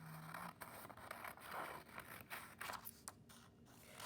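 Scissors cut through paper word cards with repeated faint snips and scraping rustles, close by and quiet, with no voices.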